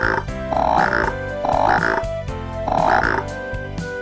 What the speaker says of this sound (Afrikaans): padda